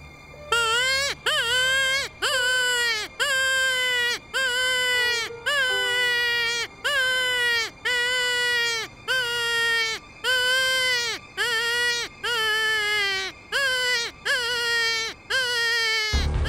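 An imitated hare distress call, used to lure predators while hunting golden jackal, repeats as a rapid series of about fifteen loud, wavering, crying wails with brief gaps between them.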